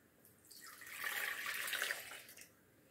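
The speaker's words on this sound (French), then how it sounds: "j'aurai besoin de 200 ml de lait tiède" Lukewarm milk, 200 ml, is poured into a bowl for burger buns, a soft brief liquid stream swelling for about a second and a half then tapering off, quiet and close with no talk.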